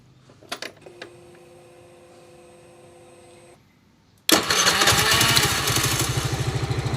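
A motorcycle fitted with a new LiFePO4 battery starts: faint clicks and a short whir, a brief quiet gap, then the engine catches abruptly and settles into a loud, close, rhythmic idle.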